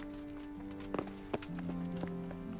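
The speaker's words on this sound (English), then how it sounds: "I was whistling for my horse" Clopping hooves of a horse arriving in the medieval game Kingdom Come: Deliverance, a few distinct thuds over a steady musical drone with sustained tones, moderately close and not loud.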